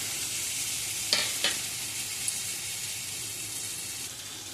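Boiled potatoes dropped into a frying onion-tomato masala for a potato kurma, with a couple of quick soft impacts over a constant gentle sizzle and no talk.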